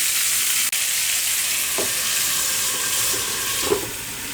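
Tandoori chicken cooks in a covered pan over a medium flame, giving a steady loud hiss of sizzling oil and steam close up, with a couple of faint clinks and no speech.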